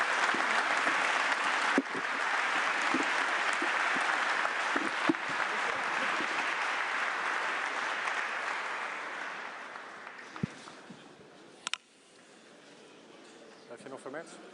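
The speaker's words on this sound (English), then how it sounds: "One more applause." Sustained audience applause at a gathering of EU leaders in Antwerp, a dense steady wash of clapping that fills most of the span, then thins and fades toward the end, with a few louder isolated knocks.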